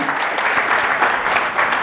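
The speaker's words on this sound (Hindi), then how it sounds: "एक बार मैम के लिए ताली।" An audience at a formal public address breaks into steady, loud applause, a dense wash of clapping hands sustained throughout.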